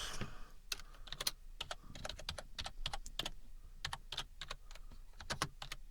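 Rapid, irregular keyboard tapping, close and crisp, with uneven clusters of keystrokes and no voices.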